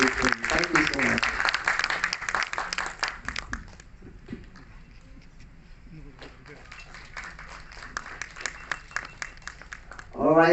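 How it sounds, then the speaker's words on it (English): An audience at a film festival session applauds with dense clapping. The clapping fades into a lull where a voice is heard, then swells back strongly. "can I have a huge round of applause, please, from the lovely audience here"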